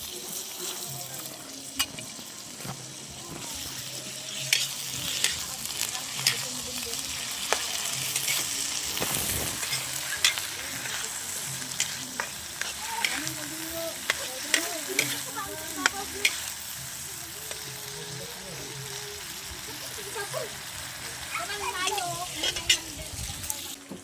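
Corned beef fries in a pan with a steady sizzle while a utensil stirs and scrapes it in scattered clicks, close by, and voices murmur faintly in the background.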